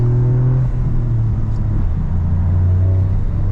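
Toyota GR Yaris accelerating on the TS Takata race track, its loud engine pulling with a steady drone whose pitch climbs and shifts as it moves through the gears.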